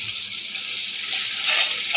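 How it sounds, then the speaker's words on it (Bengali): Potatoes fry in oil with black cumin and green chili, giving a loud, continuous, close hiss that swells slightly toward the end. "আলুটা আমি হালকা করে ভেজে নেবো"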